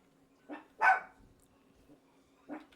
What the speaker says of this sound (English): All right, they're gonna bark in the background.